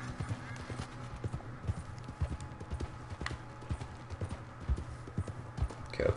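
Horse hooves clip-clop steadily at a riding pace through Red Dead Redemption 2, repeated thuds over a constant low game ambience, with faint voices in the background.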